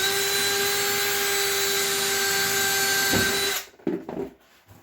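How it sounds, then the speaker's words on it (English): A power drill pre-drilling screw holes whines at a constant high pitch for several seconds, then stops, followed by a few soft knocks and handling sounds. "we're going to pre-drill in this corner as well, pushing down to make sure we're down all the way"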